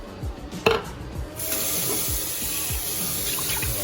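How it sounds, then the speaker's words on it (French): Tap water gushes into a container being filled for cooking chicken tchep, a brief clatter first and then a steady loud rushing stream close by. "On va le remplir d'eau."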